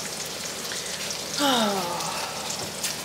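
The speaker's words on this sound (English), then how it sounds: "just making bacon there" Bacon frying in a home kitchen pan, a steady crackling sizzle with spitting pops throughout, briefly overlaid by a short voiced exclamation near the middle.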